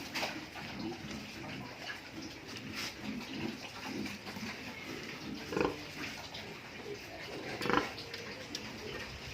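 Pigs in a pen noisily eating from a trough right after being bathed, with steady wet chewing and snuffling, occasional grunts, and a couple of louder clattering bumps throughout.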